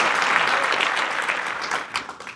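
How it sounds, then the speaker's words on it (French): Audience applause at a French Bible quiz event, a dense, steady clapping from a crowd that swells briefly and then tapers off. "Myriam, mesdames et messieurs, on applaudit s'il vous plaît."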